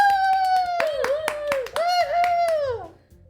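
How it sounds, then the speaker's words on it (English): Applause in the Doki Doki Literature Club video game: a run of crisp, scattered hand claps under a high, rising and falling whooping voice that fades near the end. "And everybody claps!"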